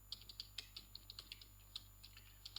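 Rapid, light key taps on a computer keyboard as code is typed, an irregular run of soft clicks close by in a quiet room.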